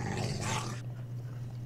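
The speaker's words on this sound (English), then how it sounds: "Oi, stop growling at me." A wolf in Minecraft growls close by in a low, steady rumble for about a second, then drops to a quieter continuous hum that holds to the end.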